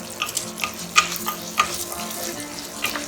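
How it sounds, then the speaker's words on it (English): Moong dal fries lightly in oil in a pan, with a soft sizzle and a few sharp clicks of a spoon stirring and scraping the lentils, close and fairly quiet. "Now we'll just lightly fry this moong dal in this oil until it's lightly brown."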